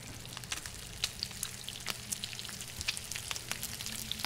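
Food sizzles and crackles as it cooks over a campfire in The Long Dark. A soft, steady frying hiss carries faint scattered pops and ticks throughout.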